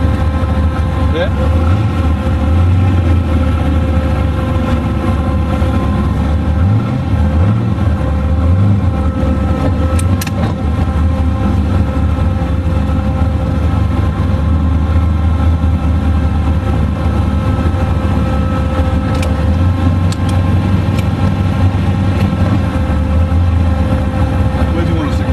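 A twin-turbo 472 Mopar engine by Faraone Engines runs steadily at Powercruise, a loud continuous drone with deep low rumble throughout, while people talk over it.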